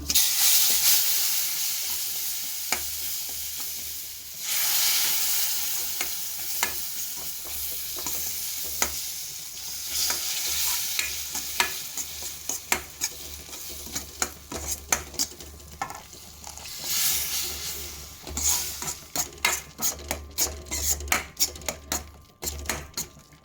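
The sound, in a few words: boiling water poured into frying semolina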